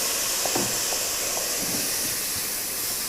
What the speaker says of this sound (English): I am going to give it a dash of water now,